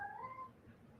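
A cat gives a single short meow close by, its rising then falling cry fading within half a second over faint room noise.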